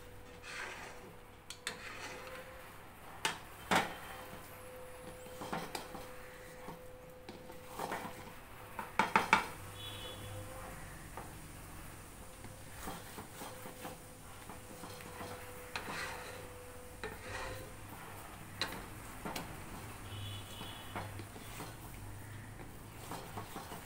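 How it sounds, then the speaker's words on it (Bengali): Khichuri being stirred in a cooking pot for a puja offering: a spoon scrapes and knocks against the pot in scattered taps and rubs, fairly faint and close, with a steady low background hum and no talk. "এটাকে ভালো করে নেড়ে দিচ্ছি যাতে নিচ দিয়ে না লেগে যায়।"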